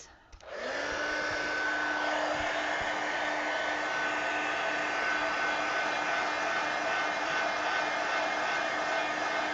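A hair dryer blows steadily on an art journal page, switching on at the start and then running loud and continuous with a constant whine and no other sounds over it.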